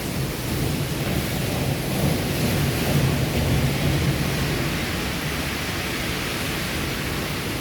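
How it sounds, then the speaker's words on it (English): Heavy rain from the remnants of Hurricane Beryl pours steadily in a dense, even hiss, with a low thunderous rumble underneath that keeps the storm sound full and constant throughout. "we're still dealing with the remnants of Hurricane Beryl in the northeast area, so that's what all this rain is"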